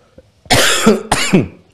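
Two harsh, close coughs in quick succession, each a sharp burst with a rough throaty tail.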